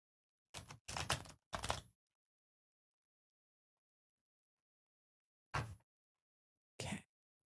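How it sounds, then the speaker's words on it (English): Tarot cards being shuffled in quiet surroundings, three quick riffling bursts in close succession, a long silence, then two more short riffles, all close and crisp. "I'm going to shuffle these really, really good because there's a lot of energy in these cards tonight."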